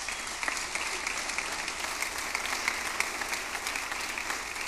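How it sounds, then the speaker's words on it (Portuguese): Steady, dense applause fills a concert hall at a youth symphonic band performance at the Conservatório de Tatuí, continuous and even throughout with no voices over it. "Aplausos."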